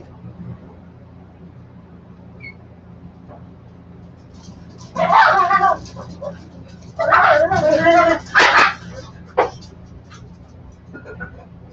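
A dog barks and whines insistently for its food indoors, with a few loud bursts in the middle and a final short yip, close to the microphone and otherwise quiet.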